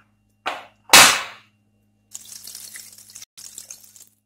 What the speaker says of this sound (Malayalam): ഇനി ഇതിലേക്ക് നമുക്ക് 2 ഗ്ലാസ് വെള്ളം ചേർത്ത് കൊടുക്കാം.